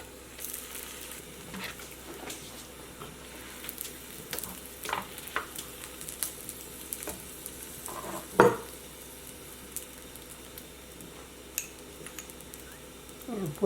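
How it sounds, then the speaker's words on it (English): Aloo paratha (potato-stuffed flatbread) sits on a hot pan with a soft continuous sizzle and scattered faint scraping and tapping sounds, one louder clank near the middle, quiet overall. "Now we are going to cook potato paratha, aloo ka paratha, and just slide it over."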